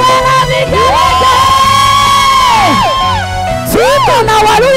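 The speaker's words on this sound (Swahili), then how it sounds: "Shangwe na vigelegele." A church congregation at a cultural Kikuyu service cheers loudly, with high warbling ululations that rise and fall above a dense roar of voices and shouts, sustained for several seconds close by.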